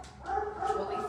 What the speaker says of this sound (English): We'll leave Finn out there barking.